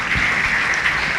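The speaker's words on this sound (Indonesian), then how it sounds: "Tepuk tangan buat kedua pemateri kita." An audience at a religious lecture claps for two presenters, a brief, steady burst of applause heard fairly close.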